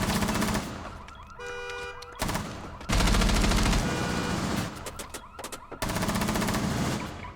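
Rapid bursts of MP7 submachine gun fire in a first-person shooter game, loud and close, coming in several sustained volleys separated by short pauses, with game sound effects mixed between the bursts.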